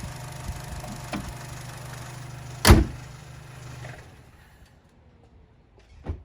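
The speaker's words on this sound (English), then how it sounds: "So I'm gonna go ahead and shut the hood here." The hood of a Chevy Cruze slams shut with a single sharp, loud thud over a quiet engine idle, followed by faint ambient noise.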